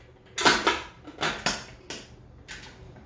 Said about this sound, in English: I'm going to put the lid on this